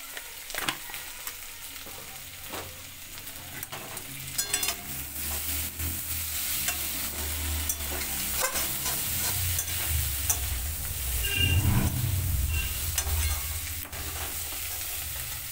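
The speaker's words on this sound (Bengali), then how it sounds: "দিয়ে আবার ভালো করে একটু নাড়িয়ে নিচ্ছি।" Long beans and potato curry frying in a pan with turmeric and tempering spices, a continuous close sizzle broken by repeated scraping stirs of the spatula, growing louder and busier toward the end.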